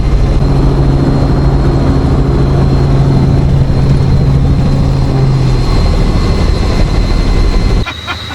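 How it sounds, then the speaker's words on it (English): Helicopter ride over Cape York at the northern tip of Australia: a loud, steady rotor and engine drone fills the cabin without a break, then drops abruptly to a quieter hum in the final moments. "What do you reckon of the helicopter ride, Jess?"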